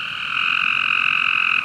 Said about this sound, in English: we found a green tree frog right next to the pond